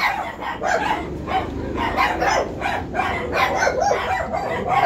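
A dog barks again and again in a steady run of short, sharp barks, fairly close, over a constant background hum.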